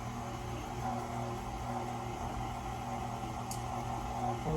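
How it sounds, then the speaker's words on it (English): An electric stand mixer hums steadily on its slow stir speed while creaming pound cake batter in a home kitchen, a soft, even motor drone with a single brief click near the end. "I like to start my mixer off on a slow speed."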